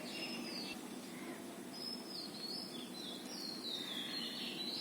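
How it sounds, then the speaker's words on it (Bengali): Scattered bird calls ring out over a steady bed of insect and cricket chirring, high whistled phrases arriving in several separate bursts, fairly faint and distant against the constant drone. "সকালবেলা ঘুমাতে পারি না, এত পরিমাণে পাখি ডাকে।"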